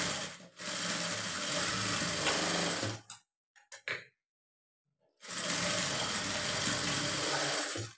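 Sewing machine running steadily while stitching the shoulder seam of a blouse, a continuous close mechanical whir that stops for about two seconds with a few brief starts, then resumes.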